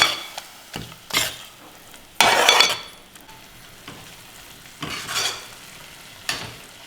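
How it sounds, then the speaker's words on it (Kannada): Fenugreek leaves and masala fry in a pan, giving a soft, steady sizzle broken by several loud scraping bursts as a spoon stirs and clinks against the metal. "ಮಸಾಲೆ ಹಾಕಿಬಿಟ್ಟು ಹಸಿ ವಾಸನೆ ಹೋಗೋವರೆಗೂ ಸ್ವಲ್ಪ ಇದನ್ನು ಹುರಿಬೇಕು"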